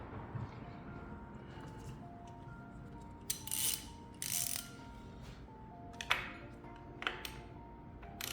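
A PCV valve is tightened on a 2.0L MR20DD engine in a Nissan Kicks AWD SV, giving quiet, close clicks and scrapes of a tool, a few sharper bursts between pauses, in a quiet space.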